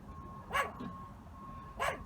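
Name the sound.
small dog barking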